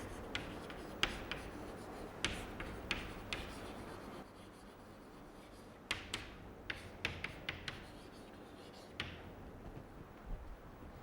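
Chalk or marker strokes on a lecture-hall board during an electromagnetic field theory class, a run of short taps and scratchy rubs at close range, with quiet pauses between bursts and no talk.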